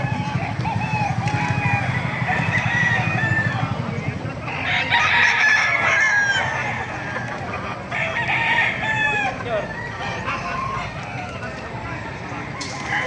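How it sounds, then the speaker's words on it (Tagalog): Crowd of chickens and roosters at a poultry market in Bocaue, Bulacan, with repeated overlapping crowing and clucking from several birds near and far, under someone talking. "Dumagsang manok ngayon dito sa Bukay, Bulacan mga mas."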